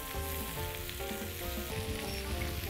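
Tomato pieces with olive oil sizzling on an electric grill for shish tawook, a dense, even crackling hiss heard close up, with no speech.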